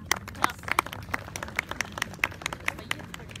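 Scattered clapping from a protest crowd in Quetta, a dozen or so sharp, uneven claps over a low rumble of background noise, moderately near and fairly quiet.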